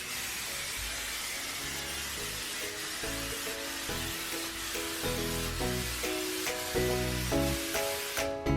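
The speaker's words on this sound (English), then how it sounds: "I'm going to spray baste the other part." An aerosol basting spray can hisses in a long continuous spray onto quilt fabric, near and steady, with faint clicks and rustling underneath.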